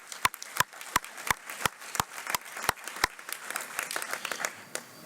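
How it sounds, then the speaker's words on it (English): Audience at a high school scholarship night applauding, with a handful of loud, sharp claps standing out near the start before the sound settles into softer, scattered clapping. "how about a huge round of applause?"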